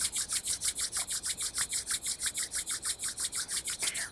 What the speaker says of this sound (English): Begin to rub your hands together vigorously, creating warmth, energy.